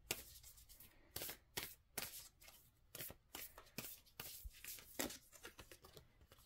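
Tarot cards are shuffled and handled up close, a quick irregular series of crisp riffling and snapping bursts with short pauses between them, soft and clear against a quiet background.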